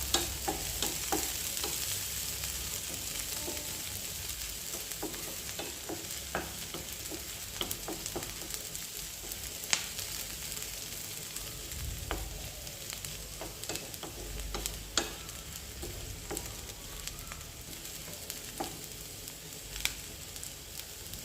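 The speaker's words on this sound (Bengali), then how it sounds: "সরিষার তেল আর পেঁয়াজ রসুন দিলাম।" Onion and garlic fry in mustard oil with a soft, steady sizzle and scattered light crackles and pops, fairly quiet and unbroken throughout.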